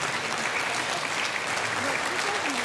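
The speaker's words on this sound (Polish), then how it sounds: "wielkie brawa dla Zbigniewa Herberta" A gala crowd applauds Zbigniew Herbert with thick, even clapping that stays loud throughout, and a voice briefly carries under it.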